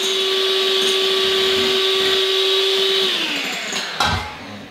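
An electric mixer beats egg whites with cream of tartar, a loud, steady high whine that holds for about three seconds, then drops in pitch as it slows and stops with a small clunk.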